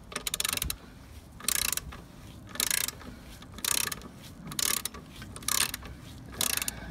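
Ratchet wrench loosening a 17mm axle nut on a Mutt motorcycle during chain maintenance, close rapid clicking bursts repeated about six times with short pauses between strokes.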